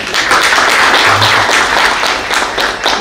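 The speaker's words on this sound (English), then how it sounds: "So, warm round of applause for Dr." A hall audience claps in a warm, steady round of applause for a doctor speaking at a World Mental Health Day event, with dense overlapping claps filling the whole stretch and no talking over it.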